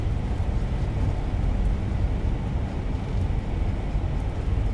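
Thrust reversers roar on an airliner landing at Newcastle in a flight simulator: a steady, loud, broadband rushing rumble, heaviest in the low end, holding constant for the whole stretch with no voices over it.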